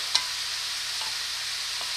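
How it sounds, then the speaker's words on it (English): Vegetables saute in olive oil in a pan over medium-high heat, giving a steady bright sizzle, with a small clink of stirring near the start and faint scrapes later. "we're going to saute in olive oil"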